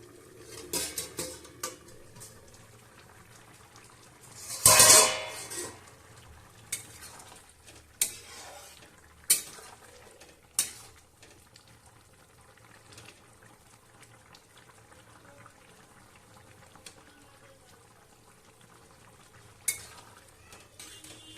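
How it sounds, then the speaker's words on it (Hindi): Aloo baingan sabji of potato and eggplant stirred in a pan, quiet simmering with occasional sharp scrapes and clinks of the spoon against metal, one louder clatter near the start. "अब तो दोस्तों हम अब बीच बीच में सब्जी चलाते रहेंगे"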